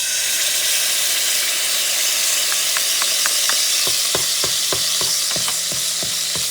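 Sofrito of peppers and onions hits a hot pan of orange shrimp juices for Puerto Rican shrimp and pigeon pea rice stew, giving a loud, steady sizzle and hiss, with regular scraping clicks of stirring joining midway.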